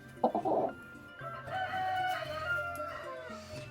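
A broiler hen, a meat-breed chicken, clucks and makes drawn-out calls close by, loud and clear for a few seconds with no voices.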